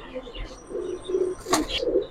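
Giribaz pigeons cooing at a pigeon seller's, soft, low, rolling coos repeating close by over a quiet background, broken by a brief sharp noise midway.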